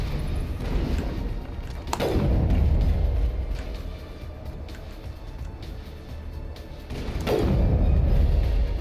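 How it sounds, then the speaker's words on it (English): Rocket impacts in the Mass Effect video game land as two heavy booms a few seconds apart over continuous low rumbling battle noise. "Oh god, that's a rocket."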